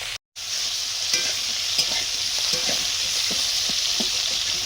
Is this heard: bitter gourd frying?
yes